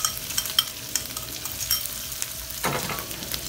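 Flakes of ham fry in a pan for a carbonara under a continuous bright sizzle, with light stirring scrapes and a louder utensil scrape near the end, close and without talk.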